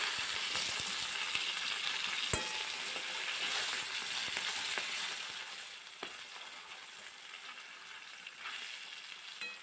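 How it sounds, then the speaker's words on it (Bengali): Pangasius fish pieces frying in mustard oil in a kadai, being turned: a steady, dense sizzle with crackling spits and a few sharp clinks, continuous and close throughout. "উল্টিয়ে পাল্টিয়ে মাছগুলোকে লাল লাল করে ভেজে নেব।"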